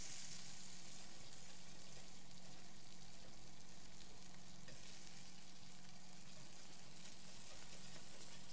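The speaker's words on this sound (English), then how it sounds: "So you just gently flip the fish to the other side for you to fry." Fish frying in a pan without oil on a cooktop, giving a steady broadband sizzle that runs throughout with a low hum beneath and no talking.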